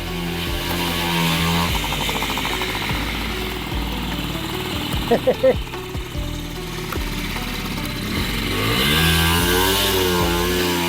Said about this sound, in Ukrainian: мопед не виходить на свій пік, можливо, через варіатор